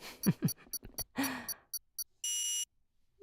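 An F1 racing video game timer sounds one sustained electronic beep near the end, preceded by short tonal blips and a person's voice imitating sounds.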